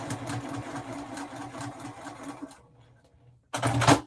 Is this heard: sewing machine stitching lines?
yes